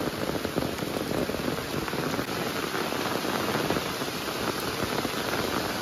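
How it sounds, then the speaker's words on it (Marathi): Heavy rain pouring down outdoors near a river during a night crab-catching outing, a dense, loud, unbroken hiss of drops with no voices. "बेकार पाऊस वाढला मित्रांनो त्यातूनच हे ॲडव्हेंचर चालू आहे आमचं"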